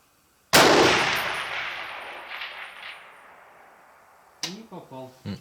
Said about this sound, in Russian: Стреляет по гонгу.